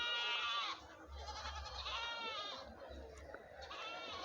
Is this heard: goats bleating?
yes